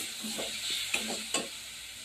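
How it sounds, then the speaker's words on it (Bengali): Tomato with salt and turmeric powder sautéing in a pan for a crab curry, a steady close sizzle broken by a few scraping stir strokes and two sharp utensil taps. "এবার দিয়ে দেবো হলুদ গুঁড়ো, দিয়ে একটু কষে নেব"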